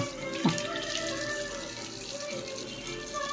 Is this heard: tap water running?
yes